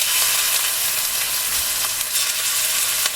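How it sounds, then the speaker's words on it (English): Oxtails sear in about three tablespoons of hot oil in a Dutch oven, giving a loud, steady, close hiss and crackle with a few faint stirring knocks and no talking. "Now I have about 3 tablespoons of oil in my Dutch oven here, and it's hot, so we'll add the oxtails."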